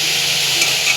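Radish greens go into a pan with fried eggplant and green chilies, sending up a loud, close, steady hiss of frying for a brief moment.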